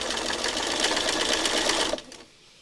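A sewing machine runs fast and loud, stitching binding onto a quilt in a continuous close-up whir for about two seconds, then cuts off, leaving a brief softer tail.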